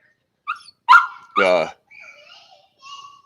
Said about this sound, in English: He's a big blue hound dog